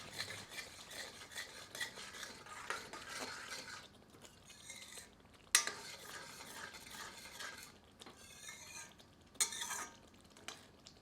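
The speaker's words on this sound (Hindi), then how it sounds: "इसे सामग्री में मिला देते हैं।" A spoon stirring kasuri methi into an egg masala mixture in a pan, soft scraping and clinking strokes repeated at close range, quiet with a few sharper metallic knocks.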